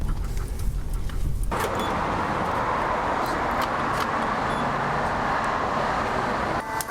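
Steady road roar and tire hum from a Chevy Colorado ZR2 4x4 pickup truck driving on the road, heard from inside the cab, loud and continuous with no talking.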